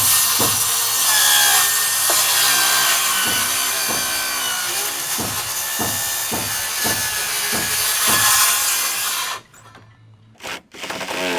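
A handsaw cuts a notch into wooden double top plates in a steady run of about a dozen rhythmic strokes, close and clear, then stops abruptly and leaves near silence.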